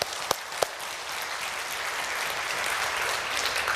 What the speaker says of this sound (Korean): 여러분, 이러면 박수 치셔야 돼요.